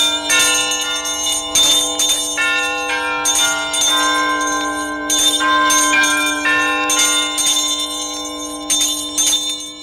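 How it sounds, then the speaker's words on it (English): Several bells ring loudly and continuously in overlapping peals, their bright metallic tones layered and sustained, with no voices. "But soon it rang out loudly, and so did every bell in the house."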